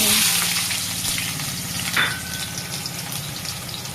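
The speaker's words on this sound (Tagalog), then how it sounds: "ilagay na natin tong patatay. Prito muna natin." Loud, steady sizzling and crackling of potatoes frying in hot oil, with a brief stir or clatter partway through.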